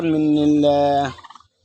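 A turkey gobbles loudly and close up in one long rattling call, ending in a few quick fading clucks, on a rooftop poultry coop.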